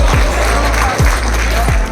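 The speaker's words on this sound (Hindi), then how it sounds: "जोरदार ताली बजाएं" Loud crowd applause rings out at an outdoor heavy-weight goat competition in Ujjain, a dense, close burst of clapping that lasts a couple of seconds, with low thumps underneath.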